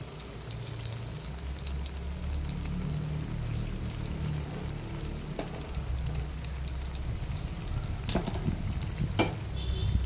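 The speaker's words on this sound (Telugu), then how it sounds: "మిర్చి చూడండి ఇలా వేగాలి" Chili fritters (mirchi bajji) sizzle in hot oil, giving a steady crackling hiss with bursts of bubbling, plus sharp clinks of a utensil against the pan near the end. Nobody speaks.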